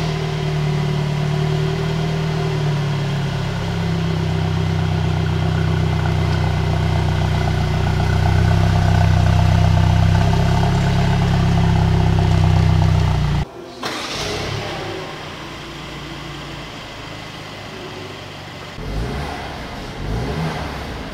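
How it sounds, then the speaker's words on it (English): A 2019 Mercedes C-Class C180 AMG petrol engine runs with a steady, strong hum and rising revs before cutting off abruptly, followed by quieter engine and cabin sounds. "let me just start the engine and we can listen to the sound of the"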